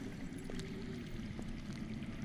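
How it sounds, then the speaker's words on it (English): Underground water flows in a steady, soft rushing wash within a fantasy video game set in the Game of Thrones world, faint and continuous, with a few small knocks and no voices over it. "That's water. I hear water. from underground."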